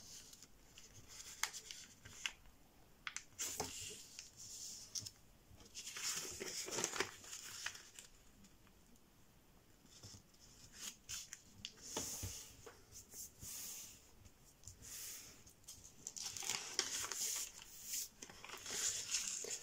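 Paper being creased along a diagonal while folding an origami starfish (John Montroll design), giving soft crinkling and rustling strokes in irregular bursts, close by and quiet, with no talking.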